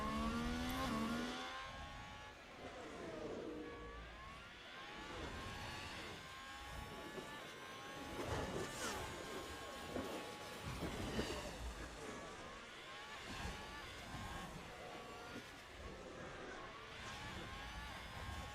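A Formula 1 car engine howls through a pole lap in F1 Manager 2022, a steady high-pitched whine rising and falling through gear changes, with faint talk mixed underneath.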